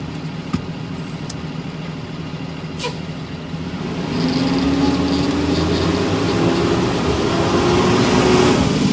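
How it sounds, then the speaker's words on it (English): A school bus rumbles nearby. A sharp hiss marks the first seconds, then the engine swells louder and holds a steady, droning roar with a faint rising tone. "That noise next to us is a school bus."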